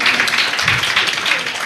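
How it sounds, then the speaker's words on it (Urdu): Audience applause for young schoolgirl performers at a school Ramadan welcome event, a steady, fairly loud wash of clapping filling the short moment with no speech over it. "زوردار تالیوں سے بچیوں کی ہمت افزائی کی جائے"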